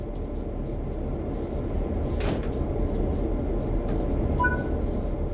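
Santa Fe F7 diesel locomotive cab in Train Sim World 3, with a steady low engine rumble throughout and a few brief clanks and knocks from cab controls or doors, no voices.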